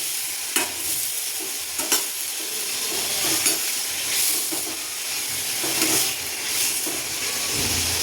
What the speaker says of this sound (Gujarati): અને એમાં હવે આપણે આ કંકોડા એડ કરી દઈશું। આ રીતે મિક્સ કરી દઈશું।